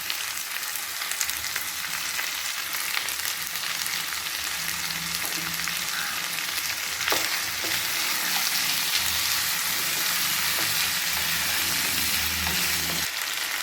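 Ivy gourd and onions fry in a pan for a gravy, producing a loud, continuous sizzle with repeated scraping stir strokes over the whole stretch.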